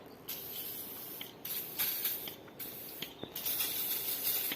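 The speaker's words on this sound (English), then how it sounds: "Some lubrication. And then some WD-40" WD-40 spray lubricant hisses in short repeated bursts onto the bolts of a rear wheel bearing on a car, fairly faint and close, with brief gaps between squirts.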